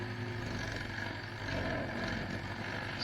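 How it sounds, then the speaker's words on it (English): A medium-sized stump grinder chews through a 20-inch tree stump, its engine droning steadily with a broad, even roar throughout, alone without talk. "This is a medium-sized stump grinder."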